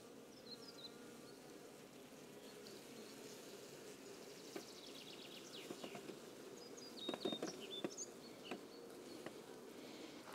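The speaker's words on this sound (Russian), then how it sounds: "здесь пчелы много" Honeybees humming at an open Buckfast hive in April: a faint, steady buzzing drone throughout, with a few brief higher chirps and light patter over it.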